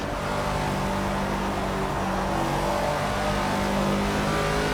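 Caterham race car engine in Project Cars, a steady close engine drone with shifting tones as the gears drop, running continuously with no voices.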